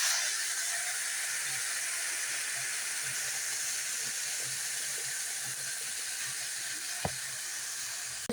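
Boiling water hits a pan of fried rice and vermicelli, giving a steady, loud hiss and sizzle that holds evenly throughout, with a single brief clink near the end.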